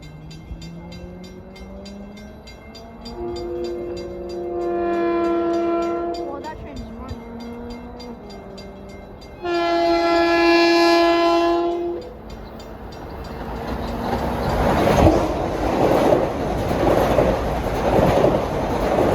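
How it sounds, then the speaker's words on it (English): A Long Island Rail Road diesel train, eastbound Ronkonkoma flyer 1962 out of Penn Station, rushes past Bethpage, sounding its multi-tone horn in two long blasts before the roar and rumble of the passing cars builds close by. "Approaching at 5:22 is train 1962, one of those Ronkonkoma flyers out of Penn Station"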